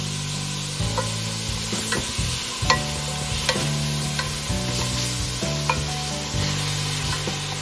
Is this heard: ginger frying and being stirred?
yes